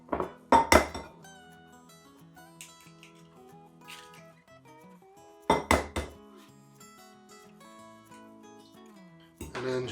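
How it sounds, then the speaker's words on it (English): Eggs for egg drop soup being beaten in a bowl: several bursts of clinking and tapping against the bowl, a cluster near the start, another midway and one at the end, with quieter gaps between and no talk. "And then just beat them up really good so that they're well incorporated."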